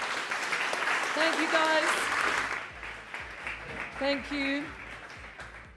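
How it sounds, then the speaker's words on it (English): A panel audience at the South Summit 2023 Sandbox Stage gives loud, sustained applause that swells and then tapers. A speaker's amplified voice cuts in briefly over the clapping near the start and again toward the end. "please, a big round of applause"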